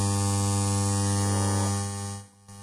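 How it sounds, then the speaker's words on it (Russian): A homemade Tesla coil fed from a faulty speaker gives off a steady, loud electrical buzz with a strong hum as its arc runs. The buzz briefly drops out near the end, then returns more quietly. "вот эта катушка издает звук, когда я подключил неработающую"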